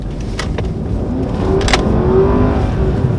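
Mercedes S-Class with a 4.7-liter twin turbo V8 pulling away from first gear, a steady loud engine drone with rising tone and quick gearshifts, heard from inside the cabin.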